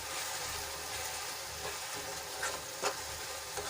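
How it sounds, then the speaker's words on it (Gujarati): Onions sautéing in oil with ginger, garlic and chili paste give a steady, soft sizzle with faint stirring scrapes near the end. "હવે આપણે ડુંગળી થોડીક સંતળા જાય એટલે એમાં આપણે આદુ લસણ અને મરચાંની પેસ્ટ બે ચમચી ઉમેરીશું"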